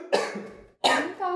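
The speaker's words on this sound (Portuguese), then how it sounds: "Eu tentei segurar a tosse." A person coughs hard twice after choking on water, two harsh close bursts separated by a short breath.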